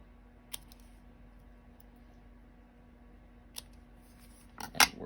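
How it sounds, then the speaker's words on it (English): Sharp snips cutting fabric scraps for a Christmas sampler quilt block, a few faint isolated snipping clicks over a quiet low hum, with the last cuts slightly louder. "nice sharp snips"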